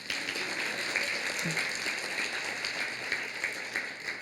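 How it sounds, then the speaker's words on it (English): Moderate audience clapping for an award finalist, a steady patter of many hands at a fairly even level across the few seconds, somewhat distant and without any standout voices. "Yes, clap for Steffi."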